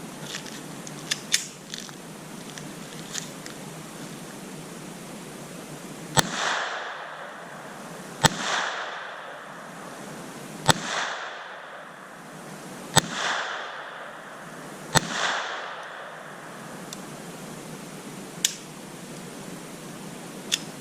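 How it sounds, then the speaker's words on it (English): Shots from Ruger SR22 and Smith & Wesson Victory pistols, about five sharp cracks spaced roughly two seconds apart, each with a brief ringing echo, plus a few fainter clicks, with no talking. "let's go ahead and take a few shots"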